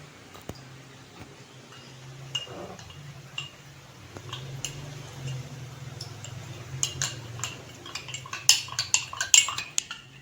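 A spoon stirs cornstarch into water in a small container, making light, quick ticking clinks against the sides that grow busier and louder toward the end.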